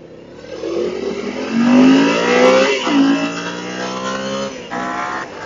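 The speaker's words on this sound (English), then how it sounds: "And God, does that exhaust sound good." A 2014 Ducati 899 Panigale motorcycle rides past close by, its exhaust rising in a loud rev, dipping, then climbing again, with a gritty, harmonic engine tone over wind noise.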